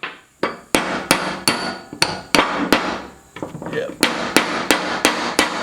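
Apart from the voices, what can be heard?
hammering to drive the nut out of a welding vise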